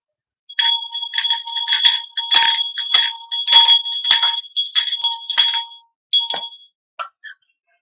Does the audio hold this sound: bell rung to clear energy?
yes